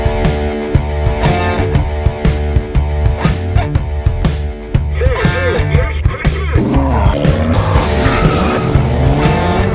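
Ford GT and Ferrari GT cars duel at speed, loud roaring engines with repeated tire squeals and skids throughout, no talk.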